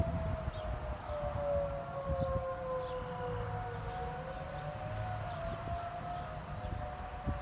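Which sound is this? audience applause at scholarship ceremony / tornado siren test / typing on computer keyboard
tornado siren test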